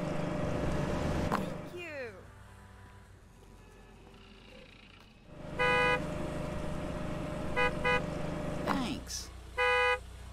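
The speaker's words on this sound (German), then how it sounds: "Können sie mal hupen da draußen." Car horns honk outside in the Gas Station Simulator game, a long blast followed by several short toots and another sustained honk, loud over engine noise, with someone talking between the honks.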